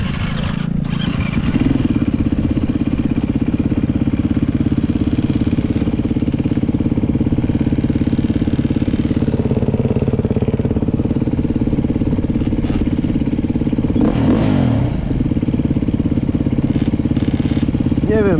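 Enduro scooter engine running steadily and loudly up close at a track, a continuous mid-pitched drone with small fluctuations in revs, and brief voices heard faintly beneath it.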